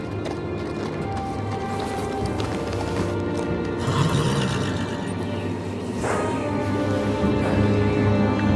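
In the Game of Thrones video game, a horse at the Night's Watch gate clip-clops steadily and then gives a clear neigh, close and moderately loud, with no talk over it.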